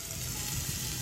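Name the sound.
chicken with McCormick Montreal seasoning sizzling in a pan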